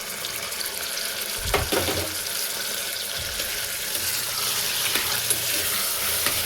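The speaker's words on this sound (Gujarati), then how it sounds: "5 મિનિટ જેવું આપણે ડુંગળી ટમેટું અને મરચું એ બધું પણ સાતળી લઈએ" Chopped onion, tomato and chili sautéing in a pan with bottle gourd, a loud close sizzle and hiss that runs continuously with occasional stirring scrapes and clatters, alone without any voices.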